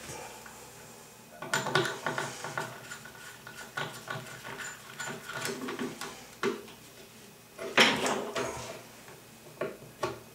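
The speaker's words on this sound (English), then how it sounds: "Now as we tighten these screws, this whole piece is going to try to go that way." Screws are tightened on a bath trap waste fitting, giving close, irregular metallic clicks, scrapes and taps in short bursts, with a louder clatter near the end.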